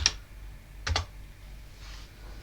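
A password is typed on a computer keyboard during an operating system install. Three or four quiet, close keystrokes are spaced out over a soft steady background hum.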